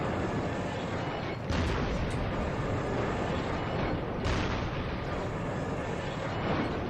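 Tank cannon fire in the Resistance: Fall of Man video game, with two heavy booming blasts several seconds apart over a steady, loud roar of engine and battle noise.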